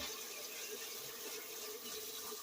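Water drains and trickles from blanched spinach sitting in a strainer for a Korean cold side dish, a faint, steady wet patter close by with no talking.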